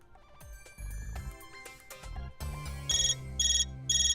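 A phone ringtone plays in repeated bright electronic bursts, loud and near, layered over a busy musical background.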